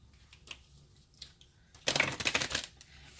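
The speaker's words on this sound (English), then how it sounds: "Shuffle one more time." Tarot cards being shuffled during a love reading, a dense burst of papery riffling that runs loud and close for over a second after a few faint taps and rustles.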